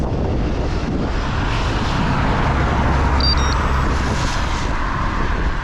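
A car comes up from behind a cyclist on a rainy, flooded road, a steady rushing roar of engine and wet tyres blended with constant wind noise, with no pauses or breaks.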